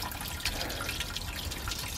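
Water trickles and drips steadily from a shrine purification fountain used for hand washing, a close, continuous splashing with small droplet patters throughout and no talk.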